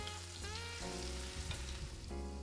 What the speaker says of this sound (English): Make sure your pan is hot so you get that sizzle from the chicken.